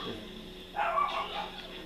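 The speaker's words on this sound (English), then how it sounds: "Yeah, my dog's barking." A dog barks in a short burst of yips partway through, moderately close, over a quiet background of video game audio.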